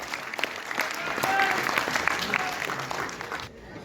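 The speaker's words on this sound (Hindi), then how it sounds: "जोरदार तालियों से स्वागत" A crowd at a village headman honour ceremony in Panipat claps loudly to welcome a speaker, with scattered sharp claps in the dense applause and a voice talking over it before it cuts off.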